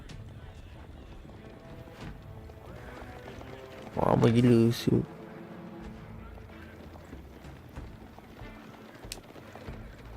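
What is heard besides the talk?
horses running and neighing in the video game Age of Empires 4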